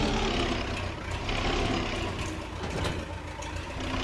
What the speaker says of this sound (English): someone said the tractor was too loud